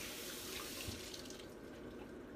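Tap water runs steadily over black beans being rinsed in a sink, a continuous close splashing hiss with no talking.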